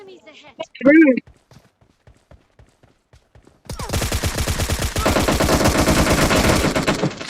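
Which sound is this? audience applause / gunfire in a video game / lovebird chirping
gunfire in a video game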